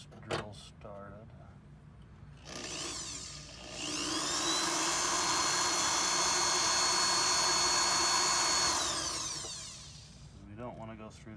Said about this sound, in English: Just trying to get these drills started.